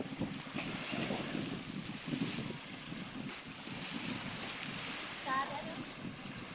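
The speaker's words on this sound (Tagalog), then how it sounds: "Mahangin dito, kuya." Steady wind gusts outdoors beside a boat on the water, a constant buffeting rush with faint waves beneath, while people talk in the background.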